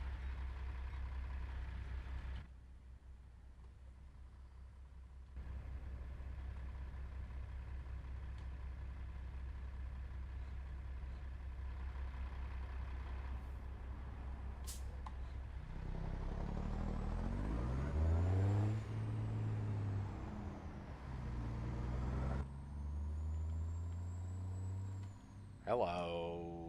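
A classic truck's engine idles with a low steady rumble in American Truck Simulator, then revs up and down in rising, falling sweeps before settling back.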